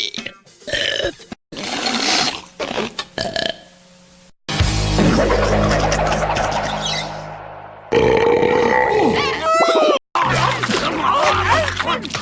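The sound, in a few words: cartoon burp, female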